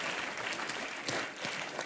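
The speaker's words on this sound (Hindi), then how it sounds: "प्लीज जोरदार तालियां सारी स्टार कास्ट के लिए" Steady studio audience applause on a Hindi comedy talk show set, a dense wash of clapping that holds at an even level for the whole stretch, with no voices standing out.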